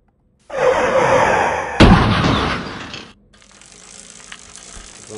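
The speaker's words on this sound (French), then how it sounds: "Je vais chercher ici un bruit de freinage." A sharp, loud screech of car tires braking that rises to a harsh peak, then cuts off abruptly, leaving faint background noise.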